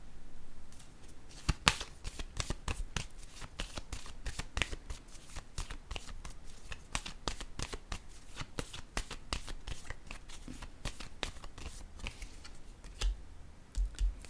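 Tarot cards being shuffled by hand, a long run of crisp, rapid riffling flicks and slaps close up with brief pauses between bursts, going on for over ten seconds.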